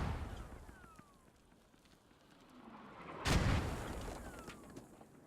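Mortar fire in a military shooter video game, a single loud boom landing midway with a rumbling tail, set against a low background of distant battle noise and faint whistling.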